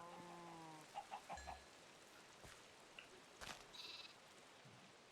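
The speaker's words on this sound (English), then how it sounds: "1 sheep, 2 sheep, make me 3 sheep." Sheep in the Minecraft video game bleat in a few short, quiet calls, along with soft scattered game sounds and faint background ambience.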